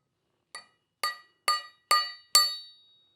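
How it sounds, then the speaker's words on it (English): Five sharp metallic taps of a brass punch against a crankshaft puller on a Porsche 356 engine, evenly spaced and growing slightly louder, each ringing briefly with a bright clink. "This guy here is a brass punch, so we won't hit it too hard."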